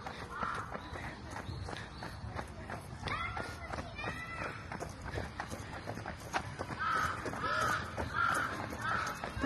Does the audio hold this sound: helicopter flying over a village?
no